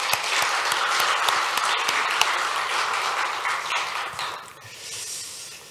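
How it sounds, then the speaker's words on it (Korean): A church congregation applauds together in a sustained burst of clapping that stays full for about four seconds, then thins and tapers off into quieter room sound. "마스크를 벗고 찬양케 해주신 우리 하나님께 영광의 박수 한번 드리겠습니다."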